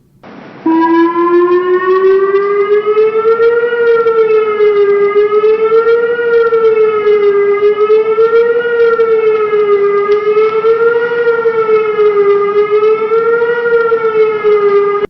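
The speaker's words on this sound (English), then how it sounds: "what the fire siren sounds like." A loud, steady facility fire siren wails for the whole stretch, its pitch rising and falling in slow waves, with no voices.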